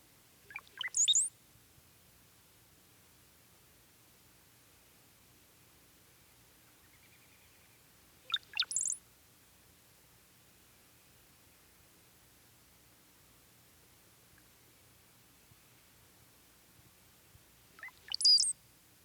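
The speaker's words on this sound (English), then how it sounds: "The most frequently heard song, given by the male cowbird, consists of several high-pitched, bubbly sounds, followed by a high," A male cowbird sings three separate bursts of bubbly, high-pitched notes ending in a squeaky whistle, spaced several seconds apart against faint background hiss.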